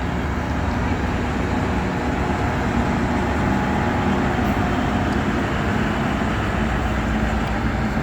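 A loud, steady rumble of a train departing Beed railway station, rolling along the tracks, continuous and close, with no breaks.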